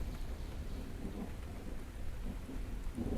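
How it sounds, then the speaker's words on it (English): Low thunder from an approaching storm rumbles continuously over a steady wash of rain, fairly faint and distant, with no voices. "Hear that thunder?"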